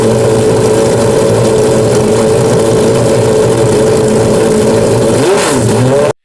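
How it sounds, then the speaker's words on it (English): A Pagani Zonda R's 6.0-liter AMG V12 with titanium exhaust roars continuously and very loudly, a dense sustained howl that dips briefly near the end before cutting off abruptly. "The Zonda R isn't just fast, it's terrifyingly loud, and its sound is so unfiltered that it feels like a living creature in pain and rage."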